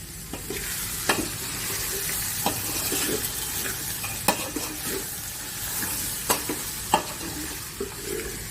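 Chopped brinjal is stirred and cooked in a sizzling pan. A continuous frying hiss is broken by occasional sharp spatula knocks and scrapes against the pan, with no talking.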